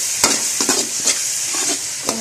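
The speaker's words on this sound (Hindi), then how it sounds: "तो मसाले को अच्छे से भून लूँगी।" Masala is sautéed in a pan for chicken curry, giving a loud, steady sizzle close up, broken by several sharp scraping strokes from the stirring spoon.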